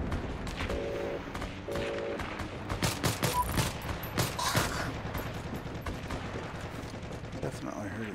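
Rapid bursts of gunfire in the WW2 shooter Heroes and Generals, mixing quick rifle shots and machine-gun rattles near and far. The firing is densest midway, with faint game tones and a voice speaking underneath.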